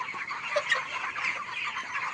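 Chickens cluck faintly on a poultry farm in the evening, a few soft calls over a low background hum with no talk.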